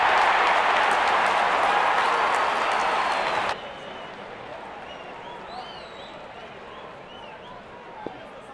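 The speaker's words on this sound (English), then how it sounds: "the crowd cheering in anticipation" A cricket crowd at an India vs New Zealand match cheers in a loud, broad roar that cuts off abruptly partway through, leaving faint ambient murmur and scattered chirps.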